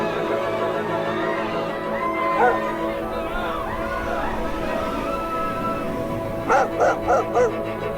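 Shepherd dogs bark in short bursts, a cluster of sharp yaps near the end rising over a steady background murmur of chatter and ambient noise.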